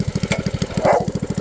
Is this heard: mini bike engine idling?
yes